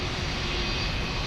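Aircraft engines and auxiliary power units run on an airport ramp, making one steady, loud, broadband roar heard close up without any voices.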